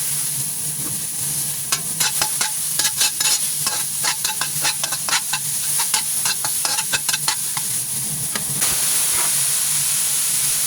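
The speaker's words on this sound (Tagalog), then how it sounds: "i-fry ko yung bawang sa sibuyas" Garlic and onion frying in a pan after the beef for a beef and broccoli dish, a steady sizzle and hiss close up, broken by a burst of quick stirring scrapes, with no talking.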